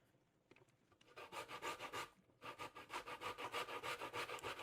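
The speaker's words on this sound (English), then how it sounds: "More grating." Cassava is grated by hand for a Jamaican pudding, with close, regular rasping strokes in a steady back-and-forth rhythm, a brief pause partway through, then more even strokes.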